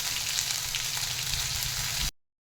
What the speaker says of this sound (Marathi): हा वाटण परतत आहे